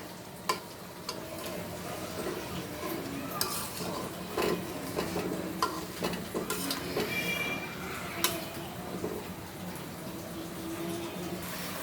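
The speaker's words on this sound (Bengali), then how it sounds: "মাছগুলোকে আমি আস্তে আস্তে নাড়া দিব" Koi fish curry gently stirred in a pan: soft scraping and occasional clinks of a utensil against the pan over a low simmering bubble, close and steady, no talking.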